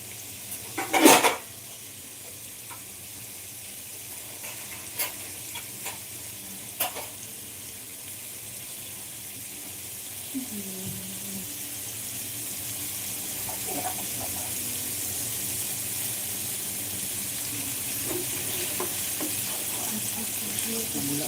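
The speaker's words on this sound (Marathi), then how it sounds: "कमी गॅसवर हे फ्राय करून घ्या" Masala for matar paneer frying on low heat, a steady soft sizzle under a loud clank of a utensil against the pan at the start and occasional scraping stirs.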